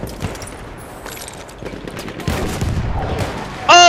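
Gunfire from a player's weapon in the Battlefield 1 video game, a muffled burst of shots against a noisy battlefield backdrop, ending in a louder, sharper blast close by.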